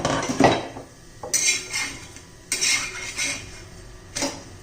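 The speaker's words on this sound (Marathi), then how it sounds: "झाकण काढून पाहूया" Metal clinks and clatters as a lid comes off a pan of rava besan chilla on the stove, several sharp bright knocks spaced out over a few seconds, close and moderately loud with no talking.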